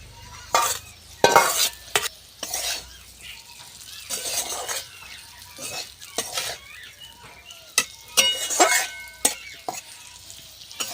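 Fried okra and potatoes are stirred in a pan. Repeated scraping strokes and clinks of a spatula against the metal come in uneven bursts over a faint sizzle, close and fairly loud.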